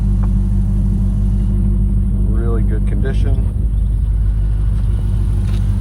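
A 2022 Ferrari F8 Spider idles with a deep, steady rumble heard up close, its drone continuous under someone speaking briefly in the middle.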